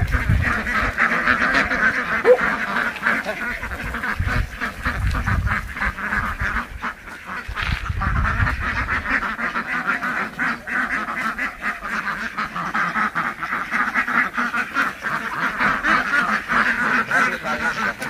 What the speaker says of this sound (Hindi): यह है बतख।